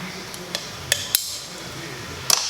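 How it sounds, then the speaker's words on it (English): A hammer gives a few light, sharp metallic taps to seat a turbo retaining ring, in two small clusters of close clicks spaced irregularly over a quiet workshop background. "I just want to make sure it's good and seated, so I tap."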